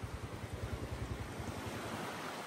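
The monsoon-flooded Kabini river in Wayanad runs below a bridge. It makes a faint, steady broadband rush, and wind buffets the microphone with low thumps.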